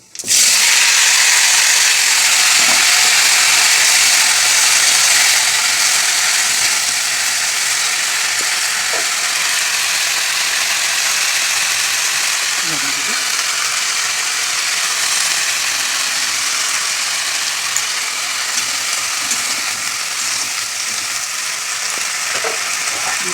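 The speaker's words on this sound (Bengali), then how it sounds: "সব সবজি একসাথে দিয়ে দেবো দিয়ে নেড়ে চেড়ে ভাজে" Mixed vegetables stir-fried in oil with black cumin sizzle loudly and steadily up close, with occasional scrapes and clicks of a spatula stirring the pan, and no talking.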